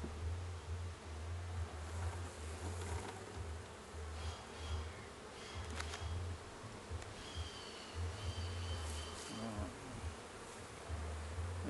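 Honeybees buzz steadily in an opened hive, with a continuous droning hum and a few higher, louder buzzing passes from bees flying close by; no talking.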